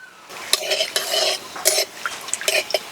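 Bay leaf and whole garam masala crackle and sizzle in hot oil for a tempering, with sharp bursts of spatter and metal utensil scrapes in an irregular rhythm, close and fairly loud.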